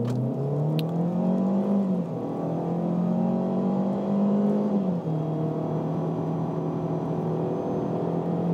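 A 2018 Ford Kuga 1.5 EcoBoost ST Line with 182 PS accelerating hard from a standstill toward 100 km/h, heard from inside the cabin: a strained, droning engine note rising in pitch, dropping at each gear change, then climbing again.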